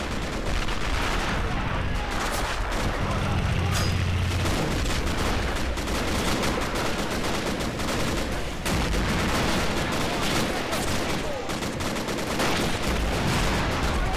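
House-to-house combat in Men of War Assault Squad 2 at Stalingrad, a constant dense roar of gunfire and machine-gun bursts with booms mixed in, loud and unbroken throughout.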